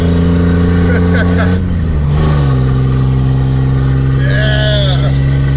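Engine of a very slow car droning at full throttle, a steady loud hum heard from inside the cabin with a brief shift in pitch partway and voices talking over it.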